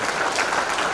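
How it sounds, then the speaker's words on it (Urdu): Dense, even applause from an audience at a poetry gathering during a talent search award program, a short burst of many hands clapping together with no pauses. "پروفیسر صاحب کا استقبال زوردار تالیوں کے ساتھ کریں۔"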